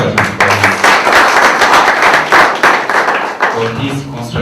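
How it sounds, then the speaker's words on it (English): Audience applause at the close of an academic lecture on selfishness and selflessness: dense, steady clapping from a full room that holds loud for several seconds, with faint voices mixed in near the start and end. "let's again give a round of applause to Professor Philip"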